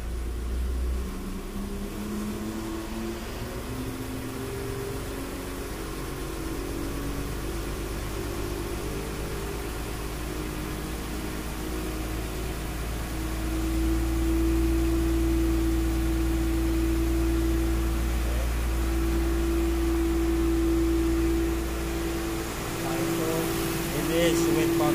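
A ship's car lifter engine runs steadily with its PTO engaged, a low continuous drone that swells louder partway through as the throttle is raised, with faint voices beneath.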